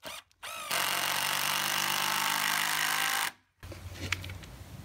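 A power drill drives an 80mm screw through timber framework toward brickwork while building a cabin: a brief spin-up, then a long steady high whine of about three seconds, stopping, followed by a short quieter rattle.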